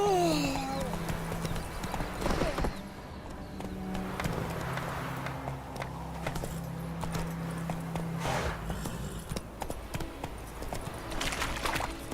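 A game horse trotting in The Witcher 3, steady clip-clop hoofbeats with the odd whinny under a voice and in-game ambience.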